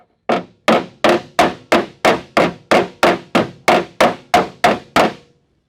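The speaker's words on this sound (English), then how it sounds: "this is a special hammer for panel beating" Fourteen sharp metallic blows of a panel-beating hammer on car body metal in a steady, even rhythm, each ringing briefly before the next strike, close and loud.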